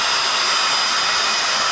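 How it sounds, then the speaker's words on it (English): A hair dryer blows with a steady, loud airy roar, close up and unbroken. "My trusty old hairdryer"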